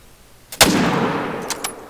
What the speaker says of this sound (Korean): 총소리부터 다르죠.